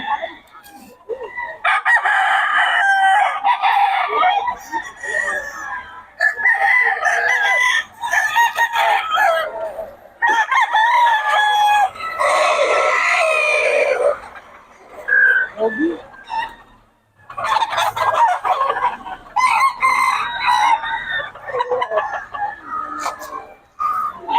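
Roosters at a cockfighting or poultry gathering in Bocaue crow loudly and repeatedly, several calls overlapping close by, with chickens clucking between the crows and faint talk in the background.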